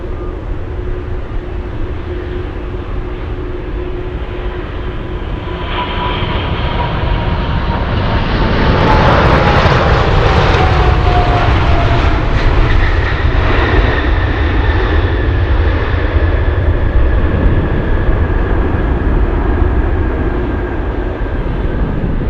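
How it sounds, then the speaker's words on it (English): Atlas Air Boeing 747 cargo jet flying in from China, a loud sustained engine roar with whining tones that builds toward the middle and slowly shifts in pitch as it passes, with no voices. "let's go for the Atlas flying in from China. It's a Ghost 747."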